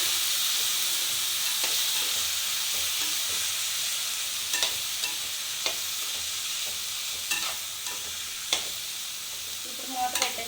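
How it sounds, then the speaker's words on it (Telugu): Lentils being stirred into a dish of food frying in a pan, giving a steady sizzle with scattered spoon scrapes and taps on top, close and continuous without talk. "తగినంత పప్పు కూడా వేసేసుకోవాలి దీన్ని కలిపేస్తున్నాం"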